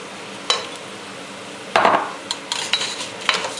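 Kalijeera rice and dal being fried over medium heat in a pan for Bengali bhuna khichuri, with occasional scraping and clinking strokes of a spatula over a steady low sizzle, no talk.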